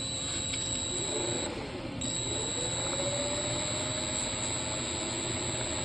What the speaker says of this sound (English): what I'm going to do is just run the motor up a little bit with a Dremel tool